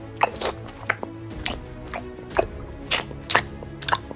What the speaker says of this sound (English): Eating.